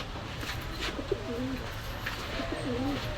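Young doubler pigeons at a Khulna Gallamari pigeon market coo in two distinct rolling phrases a second apart, close and clear above a steady hum of market noise.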